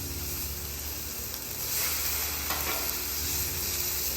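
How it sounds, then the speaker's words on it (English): Chicken breast crisping on a flat-top griddle in rendered chicken fat, a loud, continuous close-up sizzle with no talking and a brief surge of crackle partway through. "we're gonna put it on the griddle right now"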